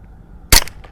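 A single sharp report from a Derya Arms TM22 .22lr rifle cracks out close and loud, then decays quickly with a short tail over quiet background.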